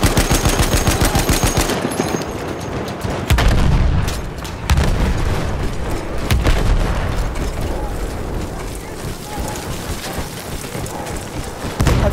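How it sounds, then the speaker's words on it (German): An enemy machine gun in the First World War shooter Battlefield 1 hammers away in long, loud bursts of rapid fire, mixed with booming explosions and chaotic battle noise, with voices now and then underneath. "Feindliches MG da drüben!"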